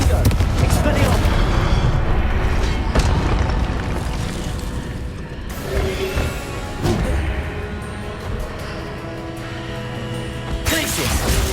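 Booming blasts from a Confringo spell in Hogwarts Legacy rumble through dense, continuous combat noise, with sharp bursts punctuating the din and a voice calling out amid the fight.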